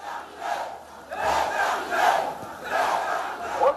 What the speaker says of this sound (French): La foule est immense,